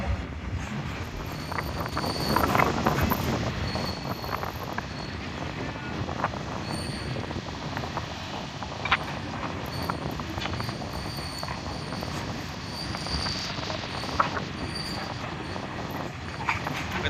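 A train running on the Nagar–Beed–Parli railway line through a sharp, nearly right-angle curve, a steady loud rumble of rolling wagons with faint wheel squeals and clicks throughout, no talk.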